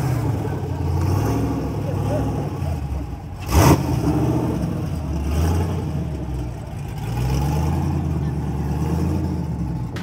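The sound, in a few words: first-generation Chevrolet Corvette C1 engine revving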